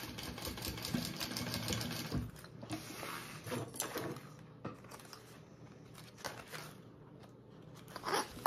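A sewing machine top-stitches small fabric flaps down on a zipper bag, its steady mechanical whir running continuously with brief pauses and clicks in between, close and moderately loud.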